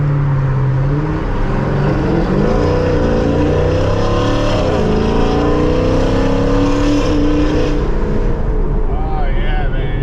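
A 426 Hemi Dodge Challenger engine revs loud and close, its pitch climbing and falling through repeated sweeps with a dip near the middle, throaty and continuous throughout.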